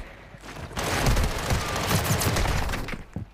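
Video-game gunfire crackles as a dense burst of rapid shots lasting a couple of seconds, fairly loud, trailing off into a few scattered pops with no talk.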